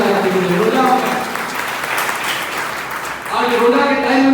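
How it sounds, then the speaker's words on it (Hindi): A seminar audience in Padrauna, Kushinagar claps in a dense, steady burst that fades slightly midway, with a voice talking over the start and speaking again near the end. "तो तालियों बजा दे, तालियों बजा दे"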